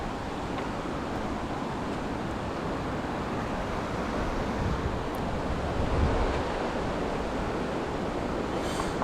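Rushing river water in the Philippines, heard as a steady, loud, broadband wash that carries on without a break and swells slightly partway through, with no voices over it.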